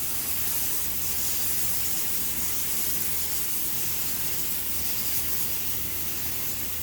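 A spray gun dusts metalflake paint mixed with base coat clear onto a tank, giving an even, continuous hiss that runs unbroken from start to finish.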